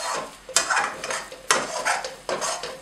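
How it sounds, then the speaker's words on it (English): A spoon scrapes carrot halwa mixture from the sides of a kadhai in three distinct strokes, each a close, gritty scraping rasp with faint sizzling between. "I'm just going to scrape down everything that's stuck to the sides of my kadhai."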